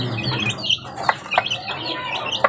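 Pet chickens being fed, giving short scattered clucks and chirpy calls at moderate loudness, a few sharper squawk-like notes standing out over a busy background.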